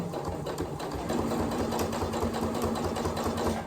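A sewing machine stitches close to the edge of a skirt lining, producing a steady, rapid mechanical whirr that runs loud and close for the whole stretch with no voices.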